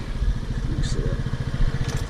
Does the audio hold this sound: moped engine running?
yes